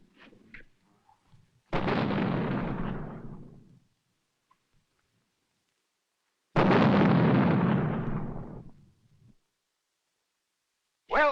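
Two heavy cannon booms about five seconds apart, each rolling off in a long rumbling decay, with a third blast starting right at the end.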